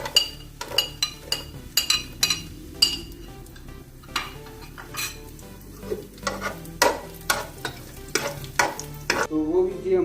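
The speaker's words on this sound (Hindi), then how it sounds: "अभी बारी आती जो बाकी किशमिश, कोपरा और बादाम था, अभी उनको डालेंगे" Raisins, dried coconut and almonds fry in a pan, sizzling steadily while a utensil stirs and scrapes with repeated clinks against the metal, close and fairly loud with no talking.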